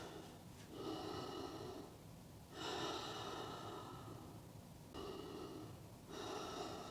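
Slow, audible yoga breaths in crocodile breathing, four long airy inhale and exhale cycles at a steady, unhurried pace, close and soft with no other sound.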